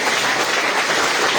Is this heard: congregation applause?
yes